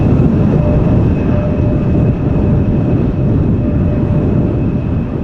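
Transavia Boeing 737-800 climbing away after a go-around in gusty crosswinds at Amsterdam Schiphol: loud, continuous broadband jet roar with a faint steady whine, sustained throughout.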